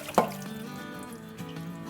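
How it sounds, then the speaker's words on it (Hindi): Cut potatoes for homemade French fries are rinsed in water at a kitchen sink, giving a brief close splash followed by a soft, steady trickle and faint low hum. "अब हम इसे अच्छी तरह से धो लेते हैं। तो हम सिंक पे चले जाते हैं।"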